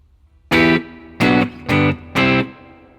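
Guitar plays chords from a song ending on a C bar chord, four short, sharply cut staccato strums in a broken rhythm, close and loud with no voice.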